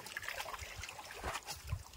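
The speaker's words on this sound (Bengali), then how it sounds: "হাতের জাল ধুয়ে নাও" A fishing net is rinsed by hand in a small Sundarbans creek during prawn fishing, giving faint, continuous trickling and light splashing of water nearby.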